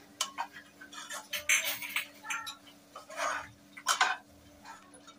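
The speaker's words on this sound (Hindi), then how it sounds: "और इसको भी एक बार मिला लेते हैं।" Spoon clinking and scraping in a pan as coriander leaves are stirred into chana dal masala, several short irregular metallic taps and scrapes close by, with faint background hum.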